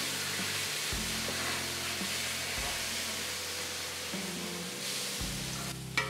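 A tomato, onion and masala mixture fries in a pan for boiled egg burji, giving a steady, close sizzle and hiss that runs throughout with no talking.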